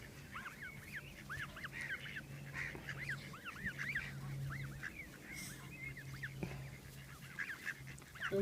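Geese being fed on the Isle of Wight honk repeatedly in overlapping bursts, a steady chorus of nasal calls at moderate distance over a low background hum.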